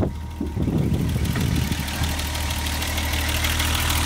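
Engine of a BMW E30 convertible running, a close, steady idle with a low, even hum after a brief rougher start.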